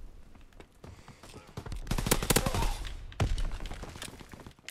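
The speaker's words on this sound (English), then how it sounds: "This guy's still sniping this corner." Sniper rifle fire in Call of Duty WW2, heard as a burst of loud, close gunfire in the middle of the clip, then a second sharp crack, with faint clicks and rustle between.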